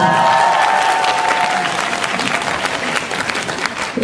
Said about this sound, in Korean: 아 박수 한번 보내주세요.